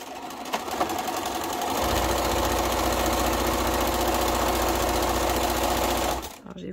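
A sewing machine stitching quilt block fabric runs in one continuous whirring, rapidly pulsing burst close up for about four seconds, then stops abruptly.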